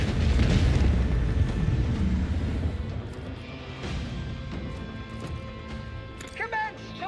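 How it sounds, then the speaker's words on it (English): A macro cannon barrage in the Warhammer 40K: Rogue Trader video game, a loud sustained rumble of heavy booming blasts that fades a little toward the end, with brief high electronic tones near the close. "Initiate macro cannon barrage."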